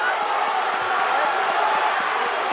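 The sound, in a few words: crowd cheering at high school wrestling match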